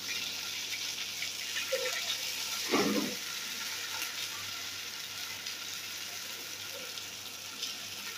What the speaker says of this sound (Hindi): लहसुन हमारा ब्राउन हो गया, तो अब हम डाल रहे हैं